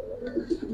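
A giribaz pigeon gives a brief, soft coo while being handled close by, lasting under a second.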